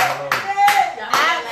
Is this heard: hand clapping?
yes